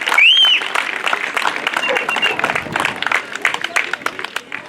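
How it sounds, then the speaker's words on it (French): Audience applause at a mountain bike enduro podium ceremony outdoors, moderate clapping with scattered cheers, mixed with a voice speaking over it. "Sous vos applaudissements, s'il vous plaît."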